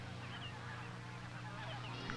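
Geese honk repeatedly in a steady, close chorus of overlapping calls.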